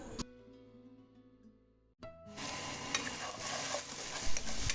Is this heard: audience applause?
no